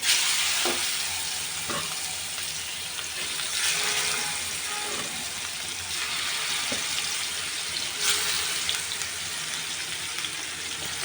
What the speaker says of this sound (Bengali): এটা এখন আমি মাছগুলোকে একটু হালকা করে ভাজবো